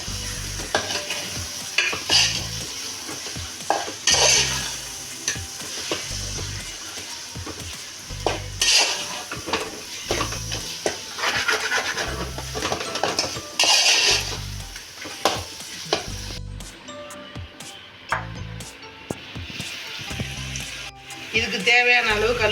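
Washed prawns sizzle in hot oil in a pan for prawn biryani while a utensil stirs and scrapes repeatedly, a loud, close, continuous frying sound with intermittent clanks.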